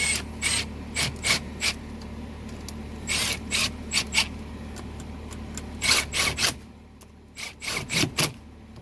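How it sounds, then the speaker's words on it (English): A ratchet wrench tightens no-hub band clamps on cast iron pipe, giving repeated bursts of quick clicking strokes in uneven groups, close and crisp with short pauses between them and no talking. "Then the middle, and then go back and really tighten them down."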